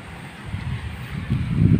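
Gusty wind buffets the microphone in low rumbling surges that grow stronger toward the end, outdoors in a bitter gourd field during heavy rain, with no talking.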